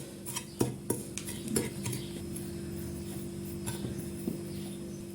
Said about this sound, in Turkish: 1 yemek kaşığı un ilavesi yapıyorum ve güzelce karıştırıyorum